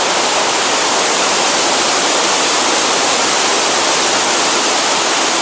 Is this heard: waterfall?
yes